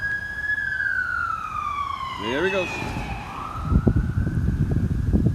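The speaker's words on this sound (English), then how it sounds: "As the sirens get closer." A wailing siren sweeps up and down, its pitch sliding as it passes nearby, with a voice speaking briefly and traffic rumble following.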